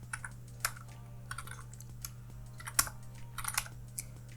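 Terminal commands are typed on a computer keyboard as soft, irregular keystrokes with a few sharper clicks, close and fairly quiet over a steady low electrical hum, with no voices.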